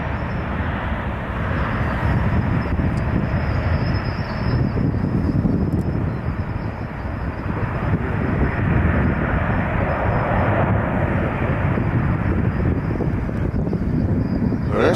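A Southwest Airlines airliner rolling out after landing at Nashville International Airport, a steady loud roar of engine and wind noise lasting throughout with a faint high whine above it.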